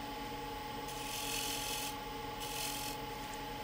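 A scraper tool works the inside of a wooden bowl on a lathe, giving a steady rasping, rubbing scrape over a constant machine hum, with brighter bursts as the cut bites in a few rhythmic passes.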